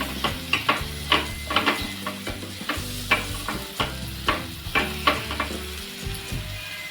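Banana flower and cooked chana dal are stirred in a pan, a spatula scraping in steady repeated strokes over a light sizzle, close and clear with no talking.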